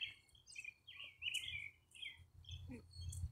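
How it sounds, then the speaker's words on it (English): Several birds chirp and tweet in quick, high bursts against a low outdoor rumble, fairly faint and distant. "I don't know if y'all hear these birds, but they chirping like it's in the morning."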